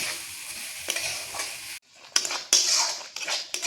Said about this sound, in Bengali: এরপর মিডিয়াম আঁচে অনবরত নাড়াচাড়া করে চিনিটাকে গলিয়ে নেব।